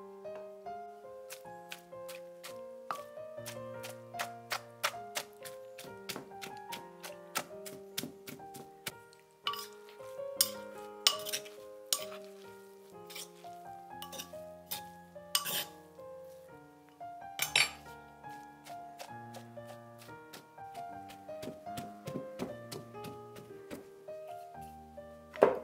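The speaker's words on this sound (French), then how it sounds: "Dans un mortier, je les écrase juste assez pour séparer les fibres" Dried pork crushed in a mortar to loosen its fibres, the pestle striking and grinding in a long run of sharp, irregular clinks and knocks, close by and with no voices.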